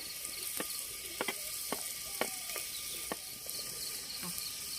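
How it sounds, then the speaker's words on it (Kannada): Onion, mustard seeds and curry leaves fry in hot oil, a steady close sizzle with sharp crackling pops scattered throughout, cooked outdoors in a village courtyard. "ಈರುಳ್ಳಿ ಫ್ರೈ ಆಗೈತೆ."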